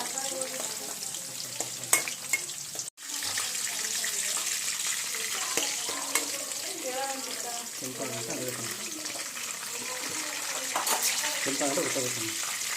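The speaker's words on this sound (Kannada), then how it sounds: "ಸ್ವಲ್ಪ ಕೆಂಪಾಗೋವರೆಗೂ ಫ್ರೈ ಮಾಡಬೇಕು" Onions and green chillies fry steadily in hot oil in a pan, a continuous close sizzle with scraping stir sounds, a brief dropout near the start, and faint voices in the background.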